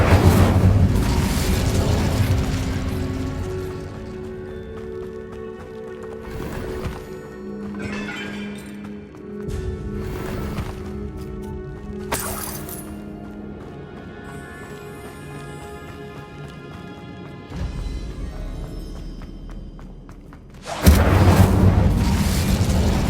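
Explosive spell blasts from the wizarding game Hogwarts Legacy, with loud booming bursts at the start and end framing a stretch of clanking, rumbling game-world effects and music-like tones in between.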